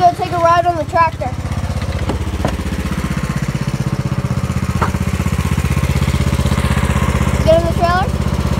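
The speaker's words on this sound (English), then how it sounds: "we're gonna go take a ride on the tractor." A tractor engine idles and chugs loudly nearby with a steady, rapid mechanical throb, while voices briefly speak and call out over it near the start and end.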